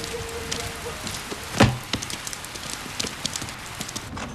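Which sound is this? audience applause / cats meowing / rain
rain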